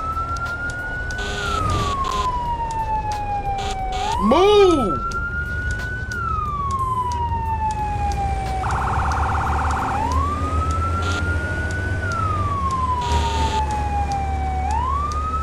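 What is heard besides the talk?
fire engine siren in Firefighting Simulator: The Squad video game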